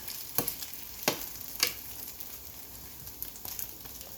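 A potato tortilla fries in a pan with a steady, soft sizzle throughout. A few sharper crackles and pops stand out from the sizzle, and no one speaks.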